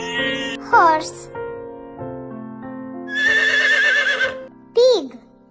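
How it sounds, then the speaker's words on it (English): A horse neighs in a children's animal-name learning piece, a rising then falling whinny in the middle, set between short bursts of bright, playful voice. "horse,"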